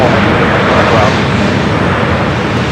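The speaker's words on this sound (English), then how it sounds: "The Neo heading to JFK, now starting its roll down at 24 left." An Airbus A320neo bound for JFK begins its takeoff roll on runway 24 left at Los Angeles airport, a dense, steady broadband engine rumble heard close and loud throughout.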